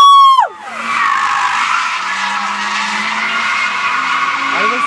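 A BMW drift car slides with loud, sustained tyre squeal over steady engine roar, closing in at the start and holding a continuous skid for several seconds.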